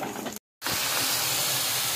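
Food sizzles hard in a hot pan with a dense, steady hiss, broken by a brief silent gap before the loud frying noise resumes and continues evenly.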